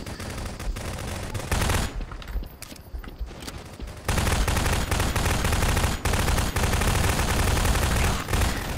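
Gunfire in Garry's Mod, dense rapid bursts like machine-gun fusillades, loud and continuous with a brief quieter lull midway before heavy firing resumes.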